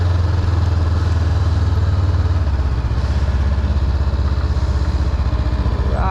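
A 2022 Honda 500 motorcycle engine runs steadily during a test ride as a close, loud, continuous low drone. It shifts pitch partway through, and wind rush sits over it.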